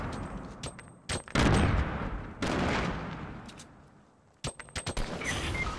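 Loud grenade blasts and rattling gunfire fill a Fortnite battle, heavy sustained booms alternating with quick bursts of shots and brief gaps, without anyone speaking.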